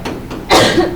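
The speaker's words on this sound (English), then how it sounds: "that was a sneeze cough" A single sharp sneeze-like cough bursts out close to the microphone in a classroom, following a few spoken words.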